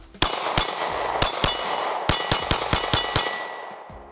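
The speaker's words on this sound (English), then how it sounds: "let's try out the Glock 26" A Glock 26 pistol test-fired at a range, about ten sharp, loud shots in an uneven string, each crack ringing briefly with metallic echo.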